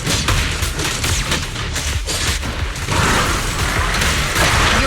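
Gunfire bursts from a sniper rifle in the video game Zenless Zone Zero, loud and continuous with dense rapid cracks and rumbling impacts over a busy game soundscape.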